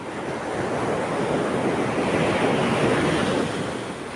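Sea waves wash and break steadily on a sandy beach, a continuous broad surf roar swelling slightly in the middle, with some wind noise and no voices.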